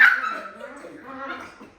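A dog whimpering and whining up close in a home, a drawn-out high plaintive cry that fades over about two seconds, with people talking nearby.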